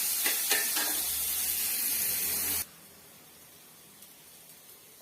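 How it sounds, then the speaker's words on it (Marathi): Onion frying in a pan for South Indian style poha, a steady loud sizzle with spattering crackle that cuts off abruptly partway, leaving a faint quiet hiss. "कांदा आता लाल भडक होईपर्यंत कांदा आता भाजून घेते"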